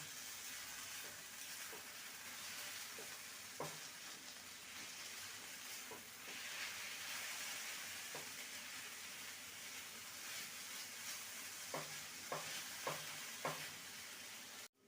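Vegetables with grated ginger and ground cumin sizzle in a pan, a steady, quiet frying hiss broken by occasional scrapes and taps of a spatula stirring, with no talk.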